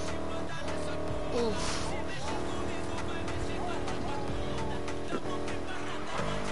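A car engine droning steadily in Need for Speed Heat while drifting, with faint tire squeal and shifting revs, loud and continuous under a voice exclaiming.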